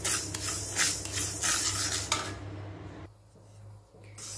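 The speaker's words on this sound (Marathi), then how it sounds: "यामध्ये 50 ग्रॅम मी मेथ्या घेतलेल्या आहेत आणि त्या गुलाबी भाजून घ्यायच्या आहेत।" Fenugreek seeds are dry roasted in a pan for a winter methi laddu. A close, continuous rattling scrape of seeds stirred against the metal is joined by a light sizzle, then quietens near the end.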